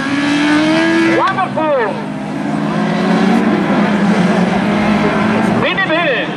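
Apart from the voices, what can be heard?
race cars driving on track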